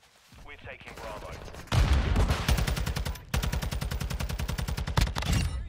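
Rapid bursts of TAQ 56 rifle fire in a Call of Duty match, loud and close, with two long automatic strings after a brief softer opening.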